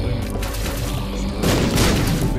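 Booming explosions in The Binding of Isaac erupt in quick succession, dense and loud, with a second heavier blast midway.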